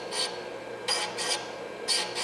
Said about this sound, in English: Notice I run it back and forth kind of quickly so that we keep the stone wear even